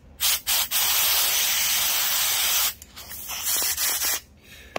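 Compressed air blasts in loud bursts onto carburetor parts from a John Deere GX345 mower, first two short puffs, then one long steady hiss, then shorter sputtering bursts.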